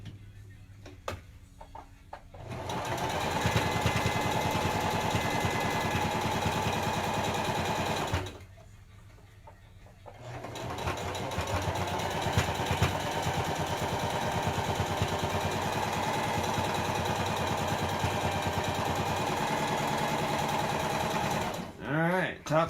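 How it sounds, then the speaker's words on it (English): A sewing machine top stitches a fabric face mask in two runs of rapid, steady whirring with a short pause between, near and clear, with a voice talking briefly around it. "Top stitching along top and bottom."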